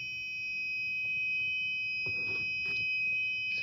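A small buzzer on a DHT22 temperature and humidity sensor circuit sounds as a steady high-pitched continuous tone over low room noise, with a few soft handling clicks near the end.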